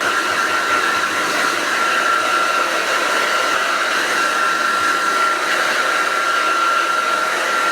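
A hair dryer blows continuously at close range, its loud steady whirring drone unbroken as it is pointed downward while styling hair into flat-iron beach waves.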